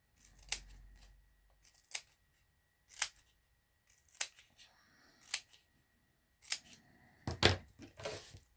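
Scissors cut paper in about eight separate crisp snips, spaced roughly a second apart and close to the listener, with quiet rustling between them and a flurry of snips near the end.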